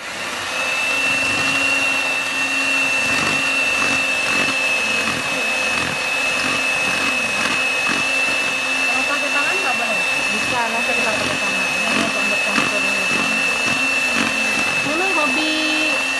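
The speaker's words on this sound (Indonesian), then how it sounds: "Campur semua bahan. Langsung kita mixer." An electric mixer beats the ingredients for Keumamah, an Acehnese cake, with a steady loud whirring motor hum that continues unbroken, and people talk over it.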